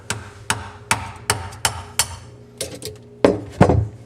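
A hammer taps sharply on the metal mounting ring of a garbage disposal under a sink, striking about ten evenly paced blows, the last two heavier and more resonant.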